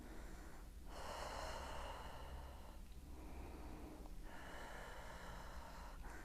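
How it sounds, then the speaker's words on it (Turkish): Heavy, audible breaths from a pregnant woman in a prenatal exercise routine, several drawn-out inhales and exhales at a slow, steady pace, close and fairly loud, with no talking. "Nefes alıp vermeyi unutmayın rahatlamanız için."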